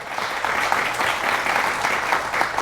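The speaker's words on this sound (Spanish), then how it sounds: "Denle un aplauso al Rey." Dense, steady applause from a large church congregation, loud and continuous throughout with no pauses.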